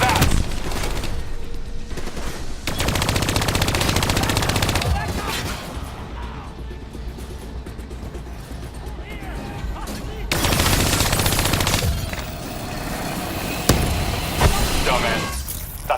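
Sustained automatic gunfire in Call of Duty Black Ops 3 as bats are shot down, loud dense bursts broken by short lulls, with a voice speaking over parts of it.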